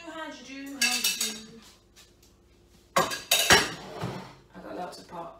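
Metal pots and pans clatter and clink in two loud bursts while tidying up before baking, with quieter rattles between and a voice heard briefly at the start.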